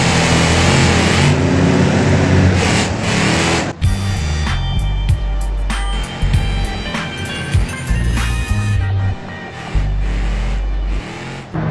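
A Chevrolet Silverado is driven in BeamNG.drive while overtaking a truck, its engine revving and shifting through loud, choppy bursts over game music and crash sounds.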